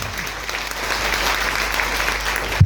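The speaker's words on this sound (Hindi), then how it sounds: "सर के लिए एक बार जोरदार तालियां।" Loud, dense audience applause fills a hall after a speech honouring a man, a continuous wash of clapping that holds steady for under three seconds before ending with a thump.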